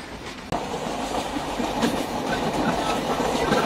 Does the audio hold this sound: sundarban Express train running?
yes